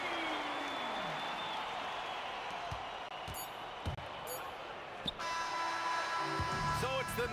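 Arena crowd at a Denver Nuggets basketball game roaring and applauding in a broad, sustained wash, with ball bounces and a commentator talking over the noise.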